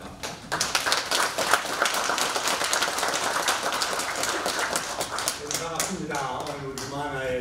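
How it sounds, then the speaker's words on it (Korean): A crowd claps for a chairman walking up at a Korean academic gathering's first meeting of 2025, dense, loud applause running for several seconds before it thins out and a voice begins speaking. "회장 나오실 때 큰 박수 부탁드립니다."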